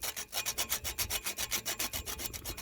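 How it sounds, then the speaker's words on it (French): Hand sanding of a cracked camper van part, quick rhythmic back-and-forth rasping strokes, close and steady, about eight per second, no voices. "je vais poncer tout ça"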